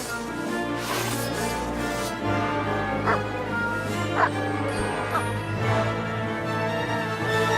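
A dog barks and yips in short repeated bursts within a medieval video game scene, set against a constant bed of music and ambience.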